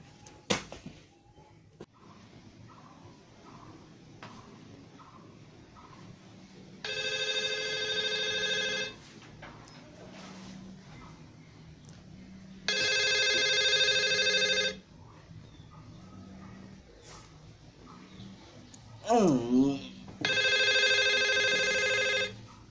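Telephone ringtone sounding in four separate bursts of about two seconds each, with quiet gaps between, over faint room noise and a brief rising electronic tone before the last ring.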